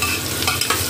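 Potatoes frying in a pan, a brief close sizzle with stirring scrapes and small crackles over one second, steady and moderately loud, no voices.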